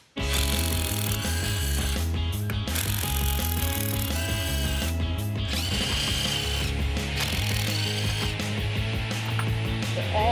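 A hand ratchet loosens intake manifold bolts during an Eforce 2300 supercharger install, with rapid repeated pawl clicking in close, loud bursts and brief pauses between strokes, no talk.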